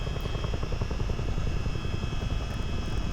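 A Boeing CH-47 Chinook helicopter by Miltech in a flight simulator game gives a steady, loud rotor thrum with rapid rhythmic blade chop over a constant engine whine, with no voices.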